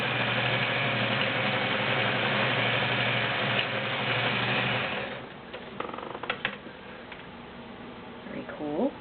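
A Kenmore model 1813 heavy-duty sewing machine stitches a banner cam pattern, a loud, steady whirring hum for about five seconds before stopping, followed by faint clicks and handling noises.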